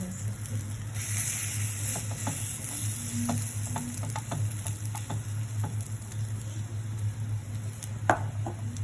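Maggi litti frying in a buttered pan, a steady close sizzle with scattered spoon taps and scrapes, faint voice in the background.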